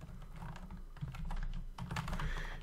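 Steady typing on a computer keyboard while entering a spreadsheet formula in Google Sheets, a quiet, close run of irregular key clicks with brief pauses.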